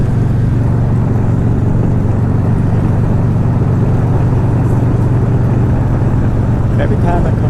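A car climbing a mountain road near Tijuana, Mexico, heard from inside as a loud, steady low engine and road rumble that stays constant throughout.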